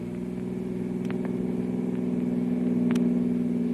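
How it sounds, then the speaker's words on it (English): Steady car engine rumble from a radio drama pursuit scene, a car speeding to catch another on the road, with a constant low drone that grows slightly louder and a couple of brief higher squeaks over the top. "Can't you get any more speed out of this car, Kolu?"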